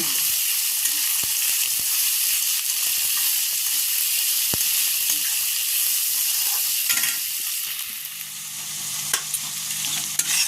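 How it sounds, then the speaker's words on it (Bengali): Chopped onion and green chilli fry in a pan under a constant bright sizzle, punctuated by scattered clicks and scrapes of the spoon stirring, and the hiss softens toward the end. "ভালো করে নাড়াচাড়া করে ভেজে নেব।"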